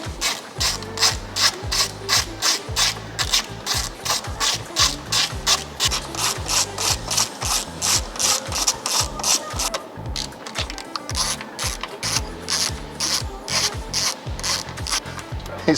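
Ratchet with an 8mm socket backing out long screws from the airbag cover panel inside a Ford Bronco, a close, rapid train of steady clicks running throughout with a brief pause near the middle.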